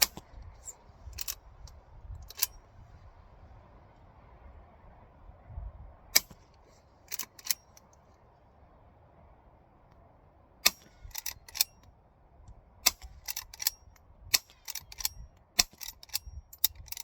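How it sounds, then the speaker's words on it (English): Henry lever-action .22 rifle fitted with a Banish 22 suppressor, firing .22 short rounds: a series of quiet, sharp cracks mixed with crisp mechanical clicks from the action, irregularly spaced over a faint background hum. "that's really quiet with a Banish 22 suppressor, Henry lever gun, 22 shorts."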